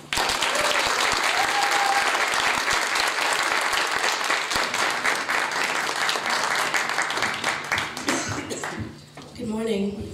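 Sustained, loud applause from a crowd at an Arab American community event, welcoming a vocalist, dense and steady throughout before fading near the end as a voice begins.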